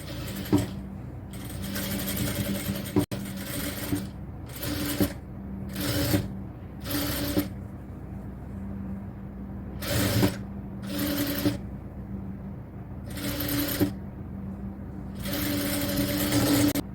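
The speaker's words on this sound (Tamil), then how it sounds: "ஷோல்டர்ல இருந்து அடுத்த பக்கத்துலயே தைக்கலாம்." A sewing machine stitching a cotton top from the shoulder, running in repeated short whirring bursts of rapid stitching separated by brief pauses, close and steady over a faint background hum.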